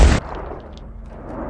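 A single pistol shot fired in an animated fight scene, one sharp loud crack at the start followed by a short fading echo and quiet.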